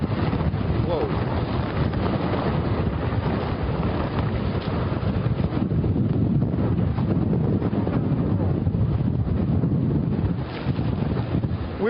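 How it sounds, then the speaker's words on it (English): Hurricane Irma's winds roar along Atlantic Avenue beside Daytona Beach, a loud, unbroken rush of gusting air that buffets the microphone for the whole stretch, with only a brief dip near the end. "I promise you I'm not over-dramatizing the strength of the winds right here."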